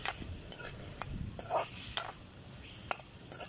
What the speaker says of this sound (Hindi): ऑयल हमारा गर्म हो चुका है, इसमें हम अपनी ये जो चिकन है इसको भी डाल देंगे।